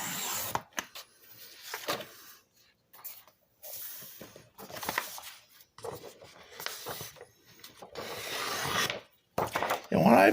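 Material for a small legal pad holder being cut to size, heard as short bursts of close scraping and slicing strokes separated by quiet pauses, with no talking.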